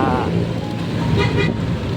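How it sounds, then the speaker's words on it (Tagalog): Busy road traffic heard from a motorcycle taxi ride, with a steady loud roar of passing vehicles and engines and a short car horn toot in the middle. "balik traffic na naman to mga katropa"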